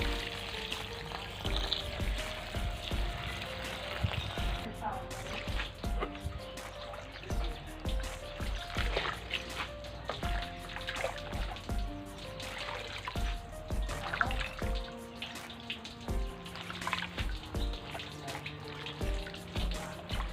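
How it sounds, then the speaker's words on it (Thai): Cassia leaves being washed in a basin of water, with steady splashing, trickling and dripping throughout, close and moderately loud, and music playing underneath. "ล้างขี้เหล็กนะคะขี้เหล็กเยอะเลยเป็นการละมังนะคะ ล้างก่อนเนาะเพราะว่าอาจจะมีฝุ่นขี้ดินขี้ทรายอะไรเนาะ"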